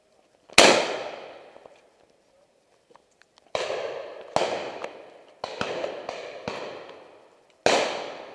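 Shotgun blasts at a pheasant and partridge shoot, a sharp report followed by a cluster of about six more shots in quick succession, loud and echoing outdoors, with no talk.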